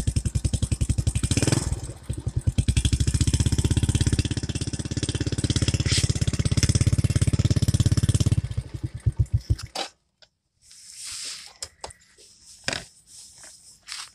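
A motorcycle engine that has just been fitted with a capacitor bank on its battery runs at a loud, steady idle with rapid even pulses, then cuts off, leaving faint clatter and small handling noises.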